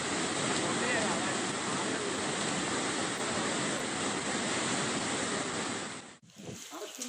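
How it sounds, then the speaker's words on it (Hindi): Floodwater rushing through the Periyar river in spate makes a loud, continuous broadband roar that holds steady for about six seconds, then cuts off abruptly into quieter rumbling. "पेरियार नदी भी उफान पर है"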